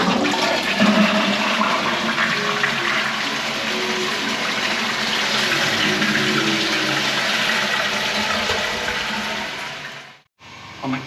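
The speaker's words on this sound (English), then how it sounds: "And that is a working toilet." Flushing toilet in an ornate public restroom, a loud continuous rushing gush of water lasting about ten seconds before stopping, a short burst following after the pause.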